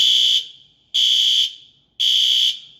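An apartment building fire alarm sounds three loud, piercing, high electronic beeps of about half a second each, evenly spaced about a second apart, with faint background noise and no talking.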